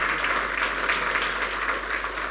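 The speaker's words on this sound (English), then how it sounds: "Can we give a round of applause to our panelists?" Steady, dense applause from a conference audience honoring panelists at a discussion on capital flight from Africa, continuous and fairly loud throughout with no talking over it.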